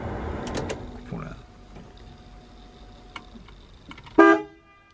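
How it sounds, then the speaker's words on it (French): Horn of a Volkswagen T3 Westfalia camper van gives one short, loud, close blast near the end, following quieter handling noises and brief talk at the start. "Ça c'est du klaxon."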